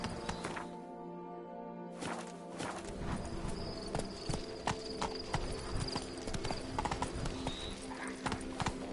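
Roach, a horse in a video game, trots with steady, close clip-clop hoofbeats, the regular rhythm carrying through the whole stretch over a game music bed.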